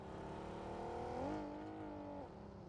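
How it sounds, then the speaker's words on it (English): A vehicle engine in the PUBG Mobile video game hums steadily at mid distance, rising briefly in pitch as it revs and then settling back to a constant drone. "we listen to the amazing engine sounds coming through as the teams continue to rotate up"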